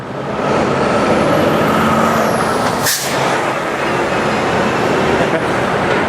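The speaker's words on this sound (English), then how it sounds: "That's a huge truck passing me on North Broad Street" A huge truck passes on North Broad Street in Philadelphia, a loud, close roar of engine and road noise with a sharp air-brake hiss partway through.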